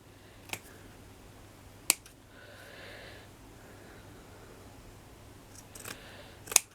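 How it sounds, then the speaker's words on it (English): Scissors snip straight across a strip of trim, giving a few sharp, isolated cuts spaced over several seconds against a quiet room background. "And I'll just cut straight across there, and I end up with a nice trim"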